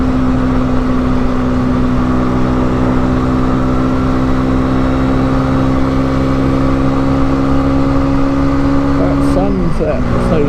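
An Italian 125cc motorcycle engine hums steadily while riding, a close continuous drone with a brief rev change near the end, with wind noise and a rider talking over it.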